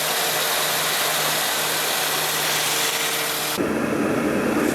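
A Toyota Matrix engine idles steadily after its ignition coil is replaced, a constant even hum with no obvious stumble, shifting in tone near the end.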